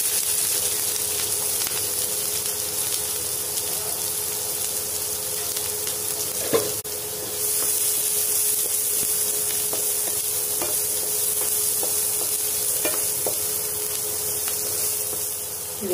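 Onion, green chili and curry leaves sizzle in hot oil in a pan, a steady hiss of frying with a faint clink or two, continuous and close with no voices.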